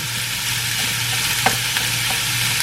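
Ground pork browning in a frying pan alongside cabbage, carrots and onion, a constant close sizzle with occasional light spatula scrapes and a low steady hum beneath, no voices.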